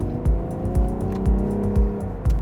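A BMW 320 diesel engine drones while driving, with a steady mid-pitched hum and a regular thumping beat repeating every half second or so underneath, heard from inside the car without speech.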